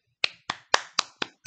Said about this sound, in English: you get a round of applause from me